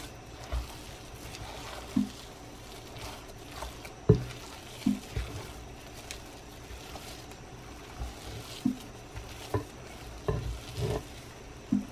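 Potato ball mixture stirred by hand, with soft scraping and thudding strokes at an irregular pace over a faint background hiss.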